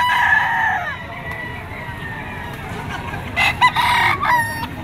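Roosters and stags at a Batangas auction market crow and cluck nearby, one long crow trailing off early, then shorter bursts of crowing and clucking overlapping toward the end.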